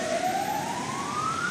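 An ambulance siren on a city street in Yakutsk sounds as one long rising wail over constant traffic roar, fairly close and loud.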